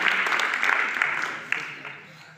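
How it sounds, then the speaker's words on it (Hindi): An audience applauds a guest at a school road safety week closing ceremony, a broad wash of clapping that slowly fades over a couple of seconds. "जोरदार तालियां अतिथि महोदय के लिए।"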